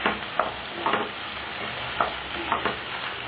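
Onions frying in a pan for a bitter gourd curry hiss softly under repeated scraping stirs, a few distinct strokes spaced across the span with no talking.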